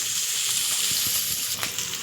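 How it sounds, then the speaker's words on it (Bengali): Onions and capsicum fry together in a pan, a steady close sizzle with hissing spatter and faint stirring scrapes. "ততক্ষণ আমি ভাজবো"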